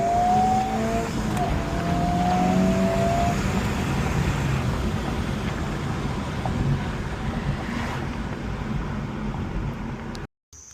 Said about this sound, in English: Second, third, second gear downshift, and full throttle.